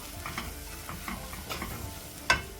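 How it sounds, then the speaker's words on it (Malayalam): Masala frying with half a teaspoon of turmeric powder for a Kerala-style prawn curry, stirred in a pan: soft repeated scrapes over a low sizzle, ending in one sharper clack of the spoon. "1/2 ടീസ്പൂണ് മഞ്ഞൾപ്പൊടി എല്ലാം ചേർത്തിട്ടൊന്ന് ഇളക്കി കൊടുക്കാം"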